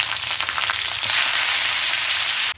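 Mustard seeds, garlic, cumin and leaves sizzle loudly in hot oil in an iron kadhai, a steady dense hiss that holds nearly unbroken before cutting off abruptly at the end.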